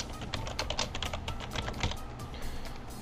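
Rapid, uneven clatter of keys on a computer keyboard, close and fairly quiet, a burst of quick taps lasting about three seconds with no talking.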